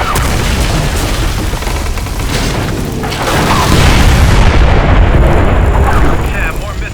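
Missile explosions in Splinter Cell Blacklist during a hot landing-zone sequence: a loud, continuous booming roar that swells halfway through, with voices underneath.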